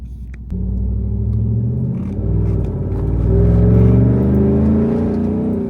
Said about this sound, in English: Hey, that exhaust sound good.